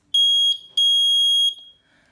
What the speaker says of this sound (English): It's also connected to the buzzer and the 9-volt battery that works in series.